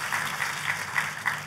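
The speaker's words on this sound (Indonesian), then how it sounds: "Tepuk tangannya pula yang paling meriah buat Tuhan kita" A church congregation claps for God during a sermon, steady broadband applause with a few louder beats, heard from some distance over a faint hum.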